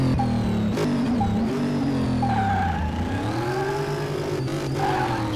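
Car with big exhaust pipes pulling away gently in the Car Mechanic Simulator video game, a loud steady engine drone with rising and falling revs, close and continuous.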